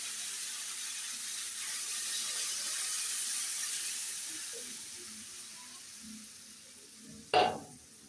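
Boiled mashkalai dal goes into a pan of frying vegetables and is stirred, giving a steady, soft sizzle and hiss, with a brief louder splash near the end.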